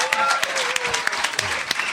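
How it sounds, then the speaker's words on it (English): An audience at a live comedy podcast taping with a comedian bursts into brief applause, with sharp scattered claps and a voice over them. "The fact that you applauded that"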